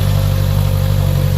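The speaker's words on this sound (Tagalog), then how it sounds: "So ganun po tunog ng ating inline 4" A 2023 Honda CBR 650R inline-four with its stock exhaust runs close and loud, a steady, even engine drone held briefly without variation.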